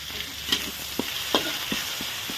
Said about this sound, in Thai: ก่อนอื่นก็ต้องผัดพริกก่อนนะจ้า